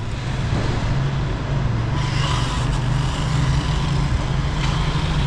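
A Kyosho Datsun 240Z 1971 rally RC car drives with a steady, continuous electric motor whine and buzz throughout, close and fairly loud, with no talking.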